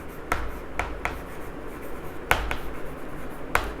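Quiet scratching strokes and a few sharp taps come from writing on a board during an accounting lesson, soft and sparse against a faint room hum, with no talk.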